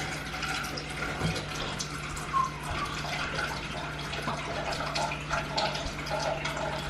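Milk pours into a measuring cup for pot pies, a continuous splashing, gurgling stream that runs steadily without a break, with no talking.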